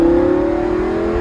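The 570-horsepower V10 of a Lamborghini Gallardo LP570-4 hums in a steady, loud, close drone with a slight dip and recovery in pitch. No voices are heard over it.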